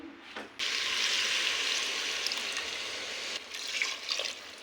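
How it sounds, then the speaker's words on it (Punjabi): Two ladles of water pour into a pot of cooking pav bhaji vegetables as a steady, close rushing hiss that starts abruptly, runs for about three seconds, then eases into softer bubbling and splashes. "ਆਪਾਂ ਇਹ ਦੋ ਕੋਲੀਆਂ ਨਾਪ ਕੇ ਪਾਣੀ ਪਾਤਾ ਹੈ"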